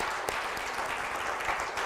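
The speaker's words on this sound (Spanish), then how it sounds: "Démosle un aplauso al Señor." Church congregation at a Spanish-language service applauding, a brief steady patter of many hands clapping at moderate volume, heard alone without speech.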